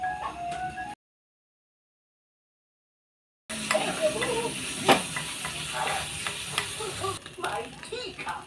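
Ground meat sizzles in hot oil in a pan, a loud, steady frying hiss with scraping stirs, interrupted by a stretch of silence midway.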